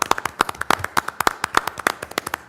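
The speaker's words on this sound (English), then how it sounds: "Let's give Sophie a round of applause." Scattered clapping at a school board meeting, a few people producing sharp separate claps at an uneven quick pace. The claps are fairly close and distinct, lasting a couple of seconds.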